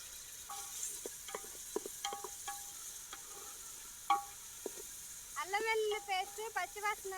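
Cashews and garlic paste hiss and sizzle in hot oil for a mixed mutton, chicken and prawn biryani, with soft stirring scrapes and a few quiet chirping tones above the steady frying.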